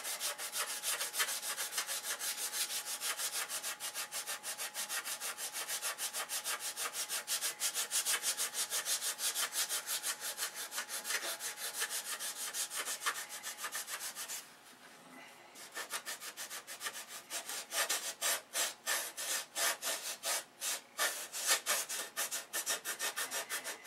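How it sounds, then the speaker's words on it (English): A wooden model is sanded by hand in a steady, close, rhythmic rubbing rasp that runs continuously, pauses briefly, then resumes in quicker strokes. "You want to sand around the corner."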